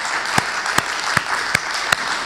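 A church congregation applauding veterans, a sparse wash of clapping with five sharp, evenly spaced claps standing out above it.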